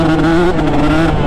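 A two-stroke motorcycle engine with rich carburetor jetting runs loud and close, a buzzy droning tone that wavers and dips slightly as the engine hesitates.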